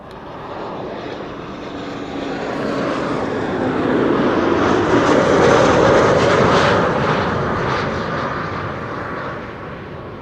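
A 21-year-old Airbus A340 four-engine airliner arrives overhead, its engine roar swelling from a distant rumble to a loud peak mid-pass and then slowly fading, with no voices.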